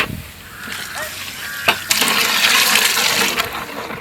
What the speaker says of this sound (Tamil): அப்ப நம்ம தேவையான அளவு தண்ணியை வைப்போம்.